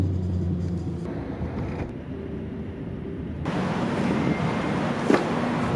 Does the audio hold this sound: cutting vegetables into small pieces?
no